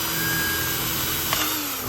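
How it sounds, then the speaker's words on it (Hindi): An Izom cordless drill runs in drill mode boring a hole, giving a steady close whine that holds throughout with a slight pitch drop near the end. "पहले ड्रिल मोड में कर लिया हूँ। तो अभी देखते हैं होल हो खाता है या नहीं।"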